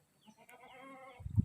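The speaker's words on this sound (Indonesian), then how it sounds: "Soalnya ini berbunyi, suaranya juga embe." A goat bleats in a pen near a sheep fold on a rural farm, one drawn-out wavering call at moderate distance followed by a louder low thump or rustle at the end.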